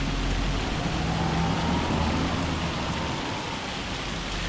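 Rain falls in the Farming Simulator 25 video game, a steady dense hiss of rain on surfaces throughout, loud and unbroken, with no talk.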